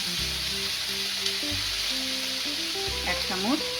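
Carrots, beans and green chillies fry in a pan with salt for egg pulao, giving a steady, close sizzle. Clear melodic tones play over it, and a few stirring scrapes come near the end.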